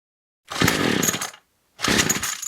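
A Troy-Bilt string trimmer's small two-stroke engine sputters to life in two short, loud revving bursts close by, separated by a brief silence, with no talk.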